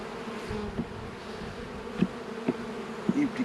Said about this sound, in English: This hive has plenty of bees.